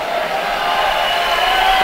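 Crowd noise at a college volleyball match, a broad wash of cheering and voices from spectators in a gym, steady and fairly loud throughout.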